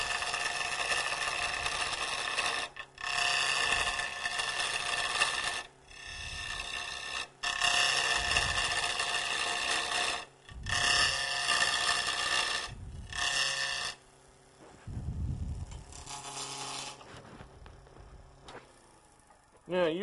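A gouge cutting the side of a wooden bowl on a lathe makes loud raspy scraping bursts in repeated passes of a few seconds each, separated by short pauses while the lathe hums.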